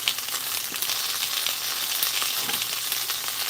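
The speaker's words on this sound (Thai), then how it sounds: "กำลังทอดเกลียวอยู่นะคะเกลียวซ้า เกลียวซ้าทำเองนะคะทำเอง ทำเองจากเนย" Homemade butter pastry twists frying in hot oil, giving a loud, dense, steady sizzle that hisses continuously and close up, with faint occasional bubbling pops and no voices.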